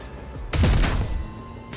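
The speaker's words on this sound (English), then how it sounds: "Concentrated fire." Concentrated gunfire in the video game Rogue Trader: a single loud burst of layered shots with a heavy low boom that swells and then fades over about a second, set against a quiet background hum.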